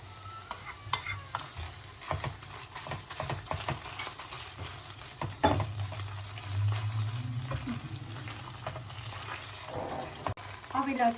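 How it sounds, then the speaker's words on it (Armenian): Onions being stirred as they fry in a pan, a continuous sizzle broken by scraping strokes and clatter. A low hum and some running-water sounds sit underneath, and no one talks. "Անում ենք սոխարած, մի փոքր կտապակենք, որից հետո կավելացնենք տոմատի մածուկը"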